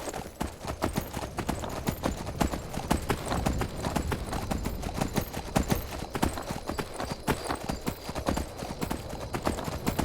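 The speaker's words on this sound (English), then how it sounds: "I'm taking my horse and I'm riding in ridiculous places that I shouldn't be able to go with horse magic" Horse hooves clop rapidly and steadily in Skyrim Special Edition, a continuous galloping patter at moderate loudness with no talking.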